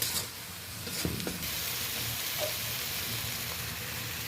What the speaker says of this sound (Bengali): এই সমস্ত মশলাকে একটু ভালো করে আরও 5 মিনিট আমি কষিয়ে নেব